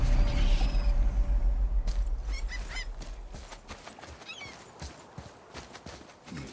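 In the God of War video game, a heavy axle mechanism is lifted with a loud low rumble and grinding at first, followed by scattered creaks, clanks and clattering mechanical knocks.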